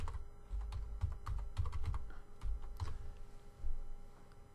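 Keys tapped on a computer keyboard to type in lettering for an embroidered monogram, a steady run of light clicks at close range, no voices.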